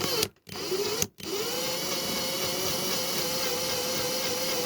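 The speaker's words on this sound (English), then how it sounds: "The trick is also don't go on hyper speed on your drill." An electric drill runs steadily into a diecast model car's metal base plate, a continuous whirring motor tone with two brief stops near the start, then running alone and fairly close.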